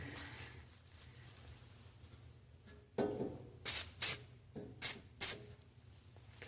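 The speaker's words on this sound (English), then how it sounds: "We're going to give these some shots of white lithium." White lithium grease sprayed from a can onto the bearings of an Estate by Murray dual-stage snow blower during servicing, heard as four or five short, close hissing bursts over a quiet background hum.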